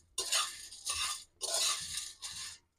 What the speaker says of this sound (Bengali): দেওয়ার পর আবার কিছুক্ষণ নেড়ে চেড়ে ভেজে নেব।